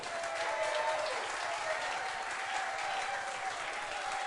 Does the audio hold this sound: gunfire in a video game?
no